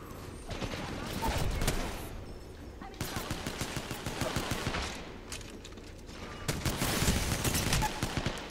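P20 pistol gunfire in Apex Legends, repeated rapid bursts of sharp shots in several clusters amid battle noise, with voices talking underneath.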